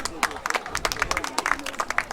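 Audience applause at a folk ssireum wrestling exhibition featuring a high school wrestling team, a dense patter of claps running steadily throughout with voices mixed in.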